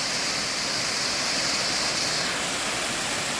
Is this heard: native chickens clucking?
no